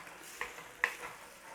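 Onions being stirred around a pan while making scouse, a steady soft sizzle with two sharper scraping knocks as a utensil works the bottom of the pan.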